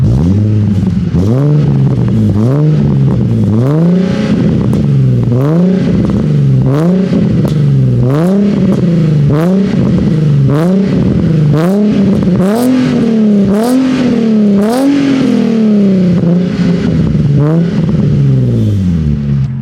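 A Nissan 350Z engine revs repeatedly, its exhaust rising and falling in steady bursts with a deep, throaty tone, loud and close, no talking.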